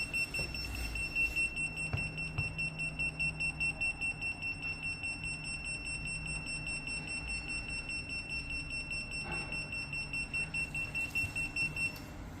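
A LaserDeton Kamikaze FPV drone detonator sits on standby, emitting a steady high-pitched electronic beep that repeats about every 2.5 seconds over a low background hum, with no voices.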